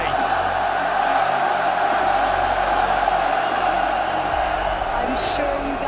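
French home crowd at the RLCS Paris Major Rocket League esports event, a steady roar of cheering and whooping that fills an arena, loud and sustained, with a caster talking over it.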